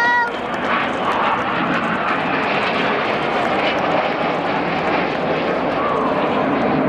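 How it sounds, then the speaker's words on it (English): Red Arrows display jets roaring past at an air show, a loud continuous broadband engine rush filling the whole stretch with no break. "Give them a wave as they fly past at 400 miles an hour."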